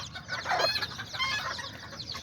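A little white mother hen clucks near her nine newly hatched white chicks, her soft, repeated clucks rising in short bursts over a steady barnyard background.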